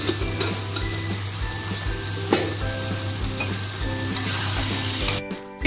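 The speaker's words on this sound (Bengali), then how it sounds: "এই যে ভালো করে কষিয়ে নেব" Goat liver curry being sautéed in a pan, a continuous close oil sizzle with occasional stirring scrapes and clinks for several seconds before it briefly cuts off.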